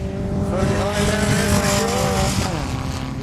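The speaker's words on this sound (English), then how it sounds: "they're just starting to go past some of the lap cars now" Formula Vee race cars at Kirkistown circuit roar past on the track, with loud, buzzing engine notes rising and falling as they go by. A commentator talks over the sound.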